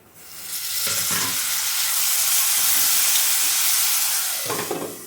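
Chopped onions and a medium-sized tomato sizzle loudly in a hot pan for taro root curry. The frying hiss is steady and close, with brief stirring scrapes near the start and the end.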